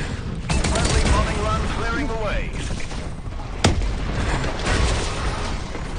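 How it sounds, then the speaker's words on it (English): Explosions from a friendly bombing run in a shooter game crackle and boom amid steady gunfire and battle noise, with a sharp blast near the middle and radio-style voices over the din. "Friendly bombing run clearing the way."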